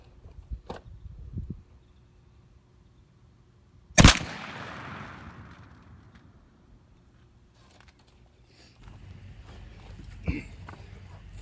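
A 28 gauge shotgun fires a single Federal 1 ounce load of number 6 shot through a super full True Lock choke at 30 yards. One sharp, loud blast rings out with a decaying tail, framed by faint handling noises.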